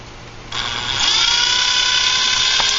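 Small tool unscrewing a bolt on the rotor head of a Blade 400 RC helicopter after a boom strike, a steady high whirring buzz that starts abruptly and holds close and loud.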